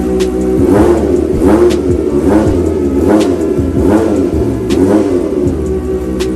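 A Kawasaki ZX-25R motorcycle engine revs loudly and steadily in repeated throttle blips, with a thin, raspy tone sustained close by and no talking.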